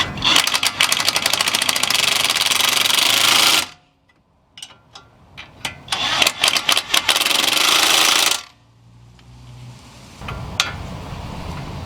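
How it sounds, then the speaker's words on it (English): A power tool tightens 18mm and 21mm lower control arm bolts on a Volvo, two loud sustained rattling bursts of several seconds each with brief clanks between, then a quieter hum. "We'll go on ahead and tighten up these two bolts here."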